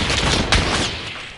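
Rapid bursts of gunfire in a combat video game ring out loud and close, overlapping shots with one sharper blast near the middle, then trailing off.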